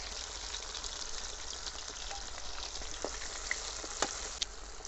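Dried red chillies frying in hot oil with mustard seeds and shallots outdoors in a village kitchen, a continuous moderate sizzle with scattered sharp pops and crackles, no talking.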